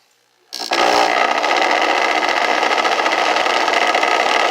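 A small vibrating device running on high for gold filtering gives a loud, steady buzzing drone that starts abruptly and holds without a break.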